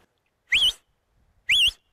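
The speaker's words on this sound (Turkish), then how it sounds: "size de hemen bir ıslık çalayım" Two sharp, rising human whistles, evenly spaced about a second apart, are sounded outdoors to call a dog, each short and loud against near silence.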